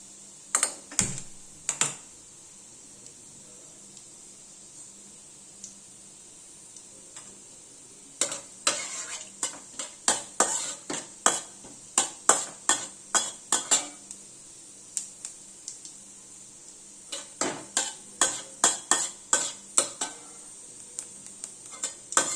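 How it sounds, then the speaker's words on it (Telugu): Cumin seeds fry in hot oil in a pan for veg fried rice, giving a faint, steady hiss under frequent sharp clinks and taps of a utensil stirring against the metal, with no talking. "దానికి ఫస్ట్ ఆయిల్ పెట్టి జీలకర్ర వేయాలి, జీరా వేయాలి"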